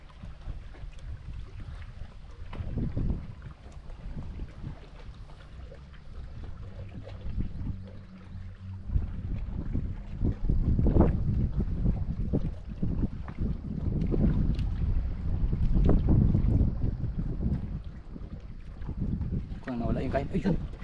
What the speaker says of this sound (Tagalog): Ramdam na yung hangin